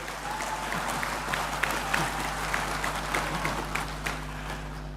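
Stronger applause for the Bank Indonesia governor's speech at an official event, a dense patter of many hands clapping with occasional sharper claps standing out, sustained and even over a faint background hum.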